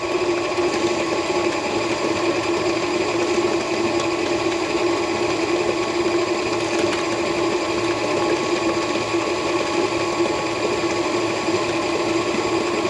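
An electric mixer beats three eggs into snickerdoodle bar batter, a constant loud whirring motor drone with a steady hum that holds unchanged throughout, no voices.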